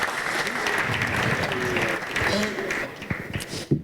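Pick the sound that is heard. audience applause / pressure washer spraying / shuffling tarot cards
audience applause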